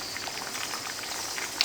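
Desi saag greens bubble and simmer in a pot, a steady dense boiling crackle with soft popping bursts, close and continuous with no voices.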